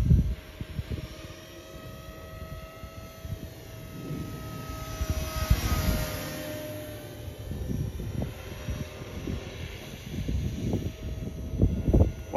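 A remote-control scale EC145 helicopter with 450-size mechanics and a five-blade rotor flies in strong wind, its steady high motor whine and rotor drone continuous under gusty wind buffeting, moderately close, with no talk.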